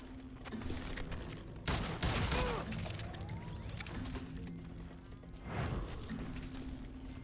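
Rapid gunfire in the Western shooter game Call of Juarez: Gunslinger: two loud clusters of quick shots over a steady game ambience with a low hum.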